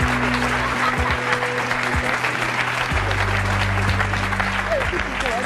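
A television studio audience claps steadily for an arriving guest, dense continuous applause with a low musical tone underneath throughout.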